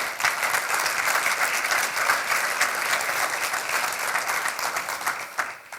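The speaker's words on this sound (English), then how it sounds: "Let's give one more round of applause." A church congregation gives a sustained round of applause at a Sunday service, many hands clapping loudly and evenly for several seconds before tapering off at the end, without speech over it.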